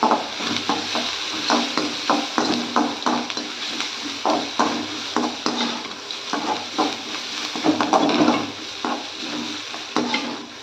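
Chopped onions sizzle steadily in a pan for a Tamil moong dal kootu, with frequent scraping spoon strokes and light clinks against the metal, close and continuous with no talk.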